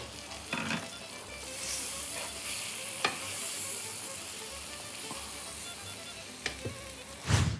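Tomatoes frying in a pan, a continuous close sizzle with occasional sharp clicks and scrapes of stirring, ending in a louder clatter.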